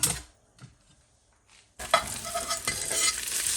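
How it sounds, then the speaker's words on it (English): Onions caramelizing in a pan over a couple notches above medium heat. A few soft scrapes and near silence give way halfway through to a loud continuous sizzle with stirring, and no one speaks. "And I'm going to caramelize those onions. Let's caramelize these onions."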